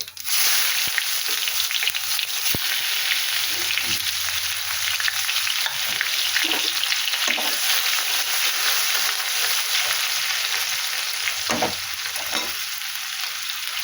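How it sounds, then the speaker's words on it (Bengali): Onions fry in hot oil in a kadai with chilli and whole cumin, a loud, steady sizzle with occasional spatula taps and stirring scrapes, close up and with no one talking. "একটু লঙ্কা দিলাম একটু গোটা জিরে দিলাম হুম তারপরে আমি এই পেঁয়াজ দিলাম"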